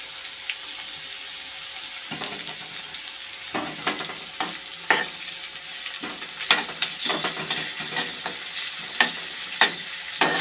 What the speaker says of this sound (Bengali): রসুনটা আর পেঁয়াজটা একটু ভাজা করে নিই।